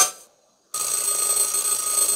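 An alarm clock in the video game Panic! rings loud and continuous, its metallic bell ringing on steadily after a brief silent gap with no voices.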